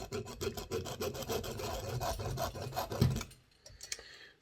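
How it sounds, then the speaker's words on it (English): Hacksaw cutting through the metal spindle of a Hornby Duchess of Sutherland model locomotive, a quick series of close, rasping back-and-forth strokes, then a sudden stop and a few faint clicks. "Where's my hacksaw? There it is."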